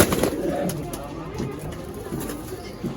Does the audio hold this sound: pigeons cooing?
yes